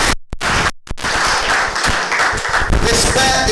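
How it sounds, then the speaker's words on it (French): Audience applauding the director general of the ULCC at an awareness campaign event, a dense wash of clapping under a speaker's voice, with a couple of brief dropouts at the start. "Applaudissez le directeur général de l'ULCC."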